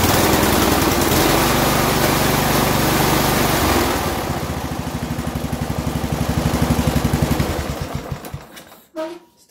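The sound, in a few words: Briggs engine of lawn tractor running after carburetor replacement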